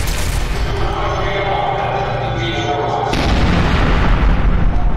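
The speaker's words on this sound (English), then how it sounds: "They all just explode." Explosions going off in a video game, a dense rumbling barrage of booms and thuds that swells louder partway through, continuous and close throughout.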